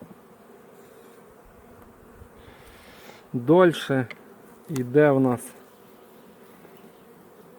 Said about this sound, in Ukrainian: бджоли сірі, темних нема.